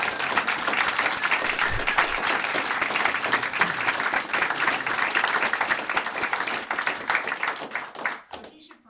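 An audience at a panel celebrating Boxo's founder Bernard and the project's first decade bursts into sustained applause, dense clapping that holds steady before tapering off and stopping abruptly at the end.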